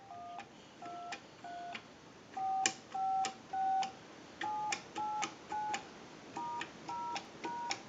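Touch-tone dialing tones from a number dialed into a line analyzer on a restored Leich wood wall telephone, a steady run of about a dozen clean, evenly spaced two-tone beeps, clear and alone.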